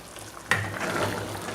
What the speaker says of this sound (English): Small bubbles are being formed. It's boiling well.